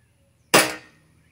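A single sharp shot from an Elite Force Glock 19 airsoft pistol, a loud crack with a short decaying tail, standing alone against quiet.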